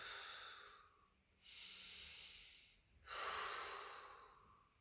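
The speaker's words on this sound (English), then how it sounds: "from this position, take a couple rounds of breath." Slow, steady yoga breathing during a gentle flow, heard close and soft as long airy inhales and exhales alternating in an even rhythm, with no talk over it.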